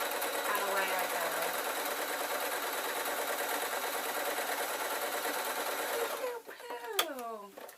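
A sewing machine runs steadily, stitching the bottom seam of a lined waistcoat with a continuous close, whirring chatter. It stops near the end, when a voice speaks briefly.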